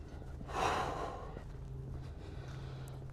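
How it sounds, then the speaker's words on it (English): Heavy breathing on an uphill walk through Vancouver toward Kitsilano, with one loud close exhale or gasp near the start and fainter breaths and light footsteps afterward, with no talking. "there might be a little bit of breathing here"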